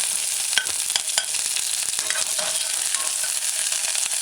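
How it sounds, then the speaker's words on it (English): Diced onions sautéing in a hot pan for a luncheon meat stew, a bright continuous sizzle broken by repeated scraping strokes of a utensil stirring them, with no one speaking. "add your diced or sliced onions. Stir it in a few times. Allow it to saute."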